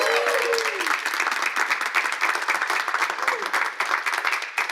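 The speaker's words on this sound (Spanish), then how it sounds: "dale tu mejor aplauso." A church congregation claps together in a dense, rhythmic burst of applause that carries steadily for several seconds, with a brief vocal sound near the start.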